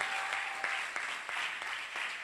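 Church congregation clapping during a service, with sharp claps landing in a regular rhythm over a continuous bed of crowd applause.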